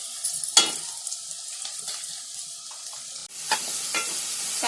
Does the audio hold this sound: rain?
no